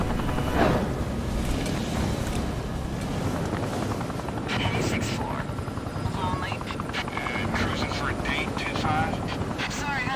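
A helicopter in the Gears of War video game gives a steady, loud rotor drone with game effects and bursts of sound over it, while someone speaks over the noise.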